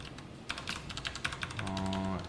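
Fingers tap code on a computer keyboard in a short quick burst of uneven clicks, faint and close, followed by a steady low hum.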